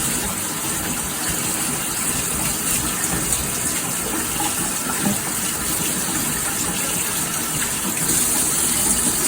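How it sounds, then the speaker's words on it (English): Running tap water pours steadily over berries being rinsed, a loud, even, continuous gush with no pauses or talk. "Make sure we give them a good rinse so there's nothing left on them."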